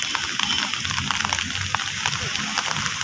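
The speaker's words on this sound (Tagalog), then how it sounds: "Ayan, tuloy-tuloy po ang ulan, mga kababayan." Steady rain falling outdoors at Manila Bay, a continuous hiss of drops hitting the ground with no break, heard at moderate loudness in an open waterfront setting.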